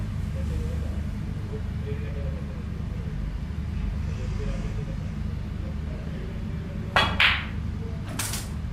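Snooker cue striking the cue ball during a practice potting shot, two sharp clicks of balls colliding near the end, heard over steady low room rumble.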